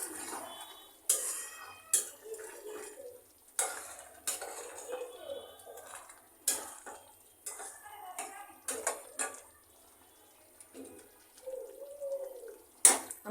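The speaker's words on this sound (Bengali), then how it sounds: "এটা তুলে আমি একটু নাড়াচাড়া করে দিই" Metal lid lifted and a spoon scraping and clinking against a pot of chicken biryani, a string of short irregular clanks and stirring scrapes, close and fairly quiet with pauses between.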